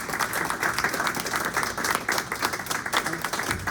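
Audience applause at a bookstore poetry open mic following a reading, a dense steady roar of many hands clapping close by with no voices above it.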